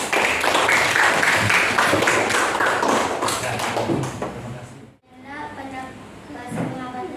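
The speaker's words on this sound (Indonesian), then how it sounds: "Tepuk tangan." A classroom of students breaks into dense, loud clapping that carries on for several seconds, mixed with voices, then briefly drops out before lighter clapping and chatter resume.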